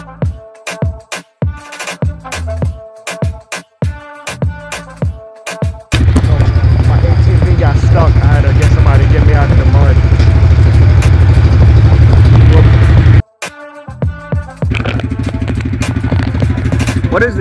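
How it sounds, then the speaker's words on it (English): An ATV engine during a jungle ride in Belize, roaring loud and close for several seconds, with sharp clattering bursts and knocks before and after the steady engine noise. "About to ride this ATV through the jungle."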